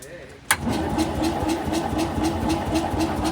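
BMW Isetta engine cranking on the starter with no fuel, a sharp click followed by a steady, rhythmic churning whir that carries on close by at an even pace.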